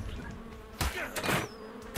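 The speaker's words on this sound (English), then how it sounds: "Getting attacked by wasps." Wasps buzzing in the survival video game Ark Survival, a steady close insect drone with brief louder swells, heard alone.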